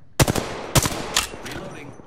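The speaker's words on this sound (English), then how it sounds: "There may be a shooter nearby. Getting shot at." Gunfire in the video game Apex Legends: three or four sharp, close shots spaced about half a second apart, each with a short ringing tail, fading toward the end.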